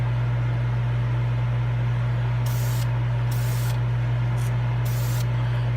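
Aerosol primer sprays out in light coats during a rust and patina project, several short hissing bursts of a second or so each over a steady low hum.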